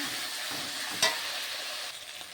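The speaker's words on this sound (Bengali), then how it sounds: "এবার মশলাটা ভালো করে কষিয়ে" Spice paste with salt and a pinch of sugar sizzles steadily in a pan for pointed gourd, a constant close frying hiss with one brief scrape or clack of stirring near the middle, and no voices.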